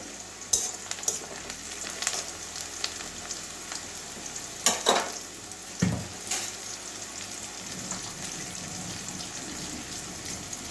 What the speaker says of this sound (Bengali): পেঁয়াজটা ভাজা হয়ে গেছে কালো জিরে দিয়ে দিচ্ছি